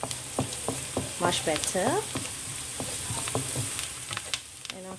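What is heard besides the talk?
turmeric powder sizzling in hot oil while stir-frying ladyfingers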